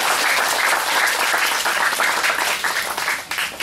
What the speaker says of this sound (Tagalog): Palakpak po para sa ating Panginoon.